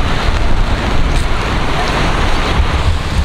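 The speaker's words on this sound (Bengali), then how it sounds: "এই জায়গাটা প্রচুর হাওয়া দিচ্ছে" Strong wind sweeps across a river mouth in rainy weather, producing a continuous loud roaring buffet with rumbling gusts that batter the microphone throughout.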